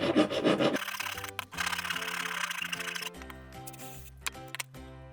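Hand filing of a hardened steel axle from a bevel gear set for a WPL Japan RC truck, with steady rasping strokes that scrape on and off, close and fairly loud, alongside faint tonal clicks.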